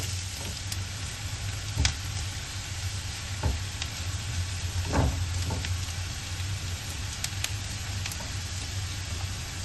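Cashew nuts fry in hot oil for coconut rice rolls, giving a steady, close sizzle with a few soft stirring scrapes and clicks and no speech.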